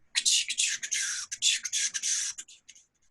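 A voice imitates a New York F train clacking on tracks in rhythms of three: rapid hissy bursts in a steady repeating rhythm, close and alone, tapering off at the end.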